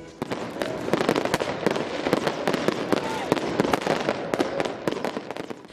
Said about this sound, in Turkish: konser ve havai fişek gösterileriyle karşılandı